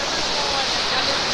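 Water rushing steadily at a pilgrimage bathing spot on the Vaishno Devi yatra route, a dense, even roar that fills the whole short stretch with no pauses.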